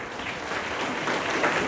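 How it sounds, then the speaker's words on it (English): Audience applause in a youth gathering hall, a soft, steady wash of clapping heard at moderate distance for a couple of seconds. "Please applaud."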